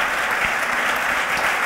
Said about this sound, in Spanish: Pues dale un aplauso fuerte al Señor